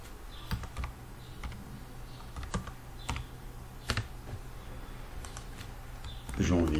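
Computer keyboard typing in a quiet room, a few scattered clicks and short bursts of keystrokes at an uneven pace, fairly near, with a louder clatter at the very end.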